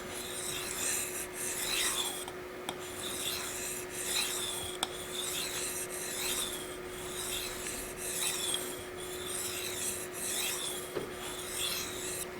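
Steady rhythmic rasping of a blade stroked back and forth on a Shapton Glass 1000 water stone, close and fairly quiet, repeating in even passes with a faint constant hum underneath.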